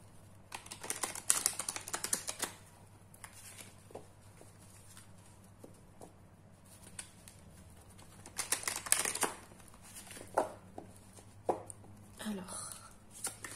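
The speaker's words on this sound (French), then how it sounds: "je vais prendre l'oracle des rebelles sacrés et je vais prendre une carte" Oracle cards from a Sacred Rebels deck being shuffled and drawn, giving soft, scattered papery clicks and slaps in irregular bursts against a quiet room.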